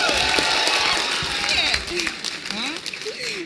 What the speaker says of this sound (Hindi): लेकर आएंगे, जोरदार तालियां।